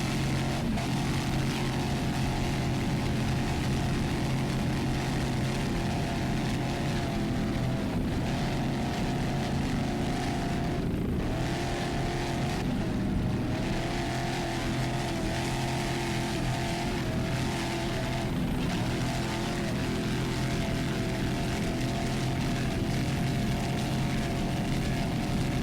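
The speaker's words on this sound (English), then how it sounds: "It's a Chevy-powered boat." A Chevy-powered racing powerboat engine roars loudly and continuously during a world championship offshore race in Key West, a dense, steady drone with slight swells in pitch.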